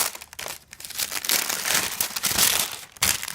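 Black wrapping paper inside a UGG Neumel boot box crinkles and rustles up close, a dense, continuous crackling of handled paper with no pauses.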